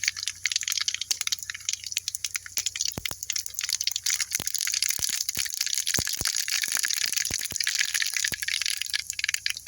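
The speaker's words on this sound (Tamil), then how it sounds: "எண்ணெய் ஊற்றிக்கலாம் கடுகு போட்டுக்கலாம்" Mustard seeds spluttering in hot oil while cooking drumstick-leaf sambar give a dense run of sharp, close pops and crackles over a steady hiss, lasting the whole stretch with no talking.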